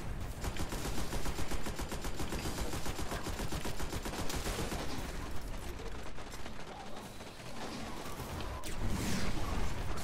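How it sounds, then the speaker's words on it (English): Heavy machine gun fire in the video game Destiny on Xbox One, a dense, continuous rattle of rapid shots running nearly the whole stretch, loud and close, with brief lulls and some mechanical clatter. "I got the heavy machine gun too."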